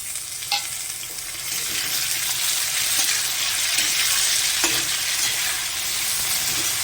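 Tomato going into a pan of frying onion and garlic for an eggplant dish, giving a steady close sizzle with a few stirring clicks throughout and no voices.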